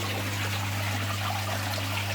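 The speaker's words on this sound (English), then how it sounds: "a big oxygen stone in there to pump some extra oxygen in there" An air stone bubbles steadily in a fish tank, a continuous soft hiss and trickle under a low electrical hum from the fish room equipment, with no talking.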